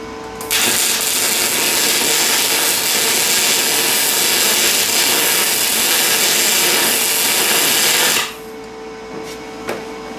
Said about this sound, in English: I'm going to go ahead and try to weld right here.